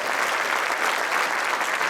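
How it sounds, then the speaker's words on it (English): Audience applause at an indoor talk event in Hartford, Connecticut: steady, dense clapping from a crowd, continuous and fairly loud throughout with no voices over it. "Let's hear it for Tony and Bob, right?"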